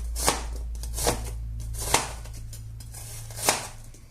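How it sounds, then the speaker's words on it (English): A knife slices through an onion on a cutting board, giving four separate crisp chops spaced about a second apart over a low steady hum. "And now the onion, I'm going to slice it this way."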